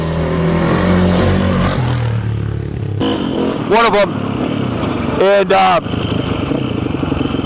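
A 2000 KTM 520SX dirt bike engine roars nearby and loud, surging through a couple of sharp revs over a steady drone, while someone talks over it.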